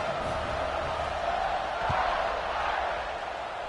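A stadium crowd roars in an NCAA college football video game as the kickoff is set, a broad steady wash of distant cheering that swells slightly midway.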